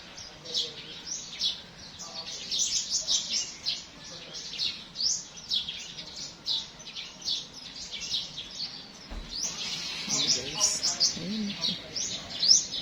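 Small birds chirp and tweet repeatedly in quick, high bursts nearby, with faint background noise and a voice briefly underneath.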